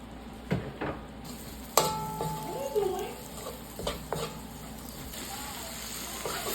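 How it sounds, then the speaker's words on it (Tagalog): Half an onion sautéing in a little oil left in the pan for pork bistek, a faint sizzle broken by stirring clatters and utensil knocks against the pan, with some background tones. "Nagtira lang ako ng konting mantika at gigisa na natin sibuyas."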